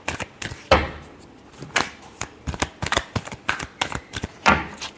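Tarot cards are shuffled by hand in a rapid series of crisp, papery riffles and taps, irregular bursts close to the microphone with no voices.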